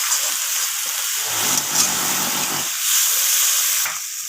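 Tomato rohu fish curry masala frying and being stirred in a pan, a steady close sizzle and hiss with a denser, louder burst of spattering in the middle.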